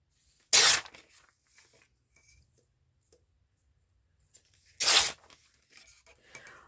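Paper picture cut from a book being trimmed, two short crisp tearing or cutting rasps about four seconds apart, close and clear in a quiet room, with faint small handling rustles between.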